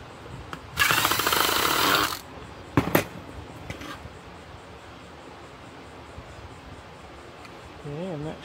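A power tool whirs for about a second and a half against stubborn screws on an Avaya G350 media gateway, followed by a couple of short clicks and bursts, then quiet handling noise.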